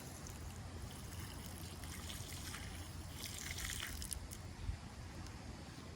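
Water poured onto freshly turned earth around black diamond watermelon plants, a soft steady trickle and patter with a faint wet squish near the end.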